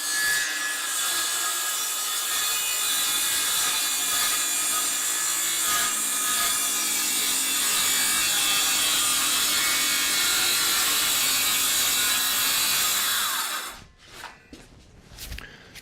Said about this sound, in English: as I'm cutting along, I'm kind of just, every once in a while, I'm watching the blade, I'm cutting the line